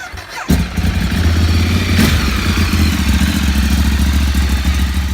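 A Ducati 848 motorcycle engine starts with a thump and settles into a loud, close, lumpy idle, running steadily to warm up with no voices.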